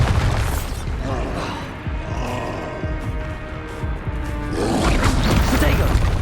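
A Bombarda blasting spell in Hogwarts Legacy erupts in a loud, heavy boom with crashing debris, a dense rumbling burst that swells again near the end amid game combat noise and voices.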